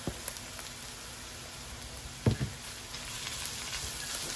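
Shrimp sizzle in a pan for pancit bihon guisado, a steady faint frying hiss with one brief louder clatter partway through and no talk.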